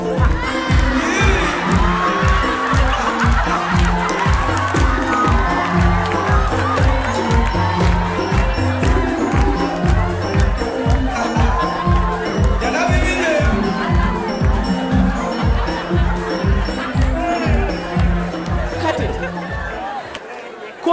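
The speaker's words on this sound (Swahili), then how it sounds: "Wapi makofi yake?" A live comedy-show audience greets Raila Odinga, the former Prime Minister, as he enters the stage, with loud continuous cheering and whooping over a pounding rhythmic music beat for about twenty seconds before it fades.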